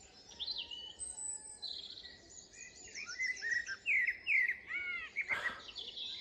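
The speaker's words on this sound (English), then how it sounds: "Hardly a better sound in the British landscape than a singing blackbird" A blackbird sings during the dawn chorus at a British nature reserve, delivering phrases of rich fluting whistles at moderate distance, with a brief rustling noise near the end.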